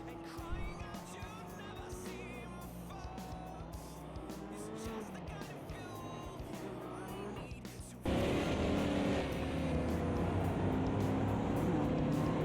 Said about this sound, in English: here's the Chevelle of Cuckoo, and we're listening to them at the moment